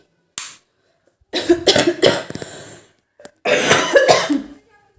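A woman with a heavy cold coughs in several harsh bursts close by, with short silent gaps between fits.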